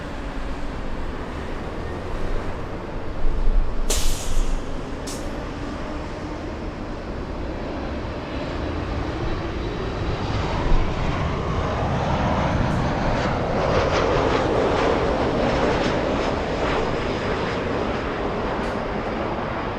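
A Lufthansa airliner taking off at LAX, a steady broad jet engine roar that fills the whole clip, swelling gradually toward the middle and end, loud and continuous with outdoor wind texture and no talk.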